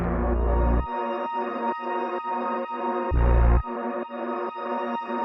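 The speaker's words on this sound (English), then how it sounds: "So we can have the synth sound like this." A punchy synth loop with a deep booming trap-style kick underneath, the heavy low hits landing at the start and again midway, rhythmic pulses repeating steadily.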